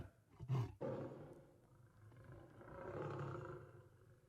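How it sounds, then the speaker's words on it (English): A tiger roaring: a low, fairly faint growl with a sharp burst early on, then a long rumbling roar that builds and swells toward the end. "I do think tigers are like more vicious and have a louder, harder roar."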